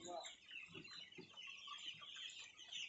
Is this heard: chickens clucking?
yes